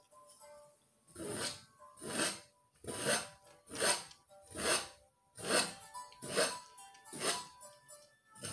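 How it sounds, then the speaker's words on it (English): A palette knife scratches across painted canvas in about nine slow, even strokes, each a soft raspy scrape with short quiet gaps between, close and fairly faint. "palette knife and just kind of randomly scratch"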